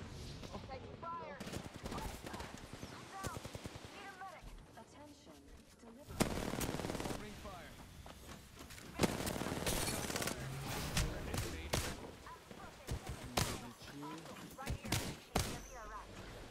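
Video game gunfire crackles in rapid bursts and volleys, some close and loud and some more distant, with players talking over the shooting.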